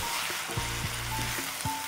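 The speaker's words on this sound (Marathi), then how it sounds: "छान मिक्स करायचं आता" Drumstick pods and vegetables sizzle steadily in a hot pan while being stirred, a continuous close frying hiss with soft scraping knocks of the spoon at irregular intervals.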